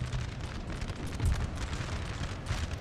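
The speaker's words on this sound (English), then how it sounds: "All my guns barrage the 9th Light Foot." A continuous, dense roar of artillery in a Napoleon: Total War battle, with overlapping booms and rumbling cannon fire massed into a steady, loud barrage and no clear gaps.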